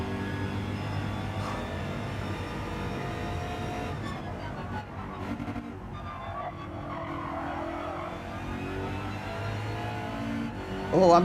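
BMW M6 race car in Gran Turismo 7 drones continuously with a steady engine note under background game sound, shifting pitch through gear changes and ending in a sudden louder surge.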